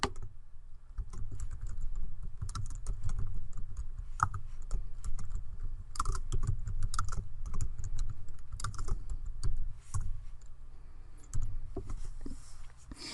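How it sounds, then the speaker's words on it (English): Steady typing on a computer keyboard, with rapid close key clicks running continuously over a low background hum and brief pauses between bursts. "I can start typing"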